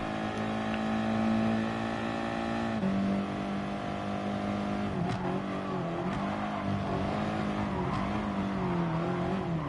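A race car engine in Gran Turismo Sport holds a high, buzzing drone, drops in pitch as it shifts, then wavers and climbs again, with a few sharp clicks and other cars faintly alongside.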